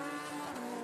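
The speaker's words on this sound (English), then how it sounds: "Turini in the Ferrari A1 GP car leading the way" A Ferrari A1 GP race car on track at a racing event, a high sustained engine scream with a harmonic whine, brief and steady.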